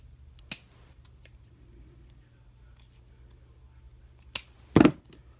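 Scissors trim a small piece of paper for a journal page, giving a few sparse, close snips with quiet gaps between them and a sharper double cut near the end.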